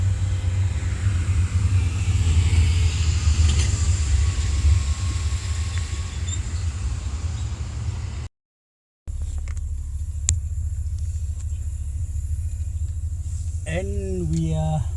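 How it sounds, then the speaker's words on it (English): A car drives on the road from OR Tambo international airport to Pretoria, with a steady loud rumble of road and engine noise throughout, briefly cut off, then resuming alongside faint squeals. "we'll get into the car and take a drive"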